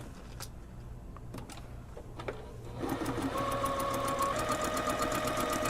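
A sewing machine runs a 1/4 inch basting stitch along a puffy sleeve, starting after a few seconds of quiet handling noises and then whirring steadily and rapidly at close range until the end.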